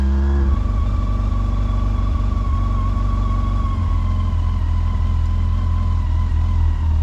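A motorcycle engine idles steadily right after starting, warming up with a loud, continuous low drone and a faint whine that holds even throughout.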